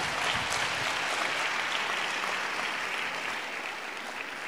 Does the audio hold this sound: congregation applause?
yes